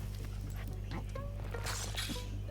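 A dog in the video game Tintin: The Secret of the Unicorn whimpers and yips softly over a steady low game hum, faint and brief.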